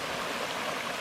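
A pondless moss boulder waterfall in a backyard patio gives a steady, soft rush of splashing water, continuous and fairly faint with no other sounds.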